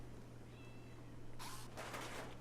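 A cat in the game Rimworld gives a faint, thin meow early on over a steady low game hum, followed by brighter bursts of game sound.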